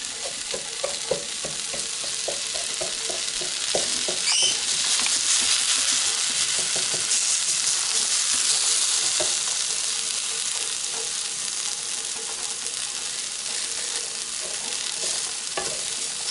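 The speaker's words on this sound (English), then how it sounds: "I'm coating it in the olive oil" Rice coated in olive oil sizzles steadily in a hot pan while being stirred and browned, with repeated scraping and tapping of the spoon over a constant close frying hiss.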